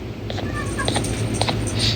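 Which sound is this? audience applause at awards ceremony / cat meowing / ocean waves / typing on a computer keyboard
cat meowing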